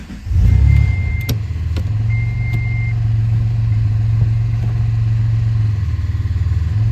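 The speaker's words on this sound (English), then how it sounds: "But now it runs. We'll have to see if it'll drive." A 1993 Dodge Stealth RT engine runs loudly up close with a deep, steady hum that rises briefly early on. It then settles into an even drone with a few clicks and knocks.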